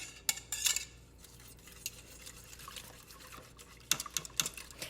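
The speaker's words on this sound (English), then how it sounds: "I'm going to take a whisk and whisk this in here" A whisk clinks and scrapes against the metal inner pot of an Instant Pot while stirring dairy-free yogurt, with a burst of rapid taps near the start, quieter scraping in the middle, and another quick flurry of clinks at the end.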